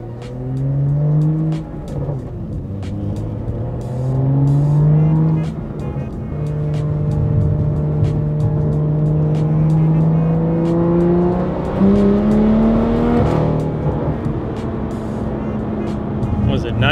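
A BMW F87 M2 cruising and accelerating, its engine note rising and falling through gear changes at close range, loud and continuous throughout with a voice speaking over it.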